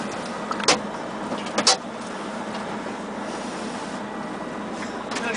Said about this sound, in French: donc je vais régler le siège